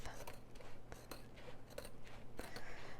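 Scissors make several quiet, close snips trimming the edge of a diamond painting canvas, spaced irregularly against a soft low background hum.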